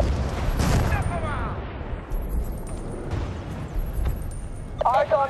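Battlefield: Bad Company 2 combat rumbles with booming explosions and scattered gunfire under a continuous low battle roar, and in-game radio voices call out over the noise.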